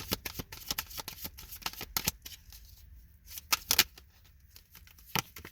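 Tarot cards shuffled by hand, close up, in repeated quick riffling bursts with brief pauses between them.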